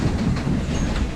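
Wacky Worm kiddie roller coaster at a seaside pleasure park, its cars rumbling and clattering along the track in a steady, close, loud run with no voices.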